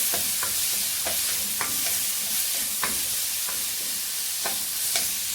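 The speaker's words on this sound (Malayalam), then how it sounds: "അതേ നമ്മുടെ പഴം നെയ്യിലിട്ടിട്ട് മൂപ്പിക്കുന്നു." Chopped bananas fry in ghee with a dense, even sizzle, while a spoon repeatedly scrapes and clinks against the pan at irregular intervals.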